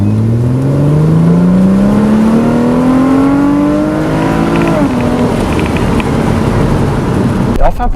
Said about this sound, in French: ce SLK 350, c'est une jolie bande son qui part de 1000 tours jusqu'à près de 7000 tours minute